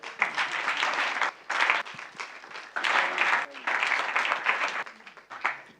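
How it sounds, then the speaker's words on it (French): A business news session audience breaks into applause in several bursts, dense clapping swelling and dropping back in short waves with brief pauses between, some voices mixed under it. "On l'applaudit."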